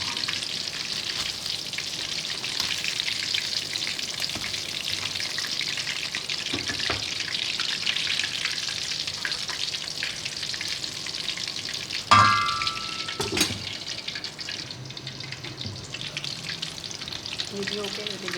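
Chicken broast pieces fry in hot oil, a continuous dense sizzle with occasional stirring clinks and a brief sharp spatter midway, no voice over it.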